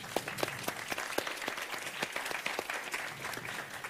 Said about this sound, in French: On peut applaudir nos panélistes.